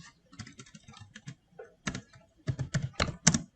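A computer keyboard clatters with quick, uneven keystrokes, sparse at first and then denser clusters of sharp taps, fairly quiet and close, heard alone without talk.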